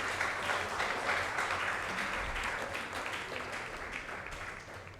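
Audience applause at an awards ceremony open mic, a dense steady wash of clapping from a crowd that holds strong for the full stretch and fades only slightly toward the end.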